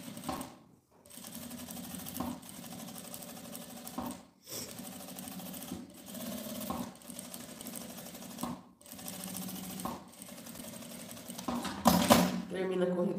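A sewing machine stitches fabric for a zippered pouch, starting and ending with backstitching, in several close, rapid mechanical runs separated by short pauses, with someone speaking over it at times.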